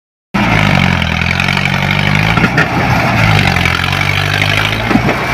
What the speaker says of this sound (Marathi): अशा माळा खाळाच्या रस्त्यानं गाळाम भरल्या ट्रॅक्टर चालवणं काय सोपं नाही